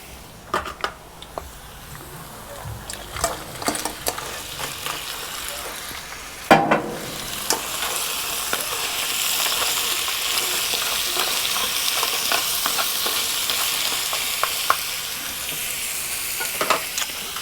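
Crabs for chilli crab sizzle and fry in a hot pan, with intermittent scraping and clattering as they are stirred, including one louder knock partway through, and a steady crackle throughout.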